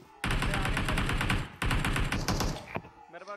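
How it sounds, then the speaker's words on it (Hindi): Long, loud bursts of rapid automatic AKM rifle fire in PUBG Mobile, two sustained volleys separated by a brief gap, followed by quieter game sounds at the end. "एकेएम वगैरह चला रहा है भाई"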